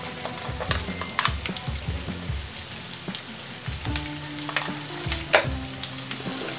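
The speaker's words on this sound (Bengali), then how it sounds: "পেঁয়াজটা একটু ভাজতে হবে।" Chopped onion with a little salt fries in hot oil in a pan, making a steady sizzle broken by the scrape and clatter of stirring, with no talk.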